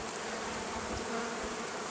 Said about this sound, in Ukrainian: Ну а де бджоли? Бджоли ось тут.